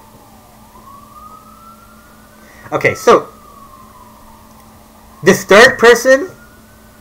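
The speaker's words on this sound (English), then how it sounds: "And there's a siren blaring there." An emergency vehicle siren wails outside, a faint rising and falling tone running steadily in the background while a person speaks over it indoors.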